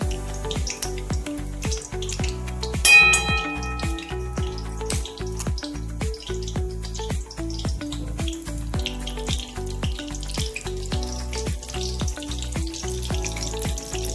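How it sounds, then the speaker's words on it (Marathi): Butter cube frying and sizzling in hot oil in a pan while Mumbai street-style butter pav bhaji is cooked at home, a steady close crackle with dense spattering pops throughout and a brief louder burst early on. "हे आपण बटरचे क्यूब तेलामध्ये टाकणार आहोत"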